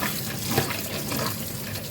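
Tap water pours steadily into a pot of white beans with tomato sauce, a continuous splashing rush with no breaks.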